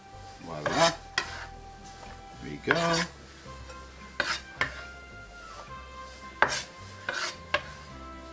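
Chopped nacho toppings, including red and orange pepper, tossed in a bowl with a few sharp clattering scrapes and knocks spaced across a quiet kitchen.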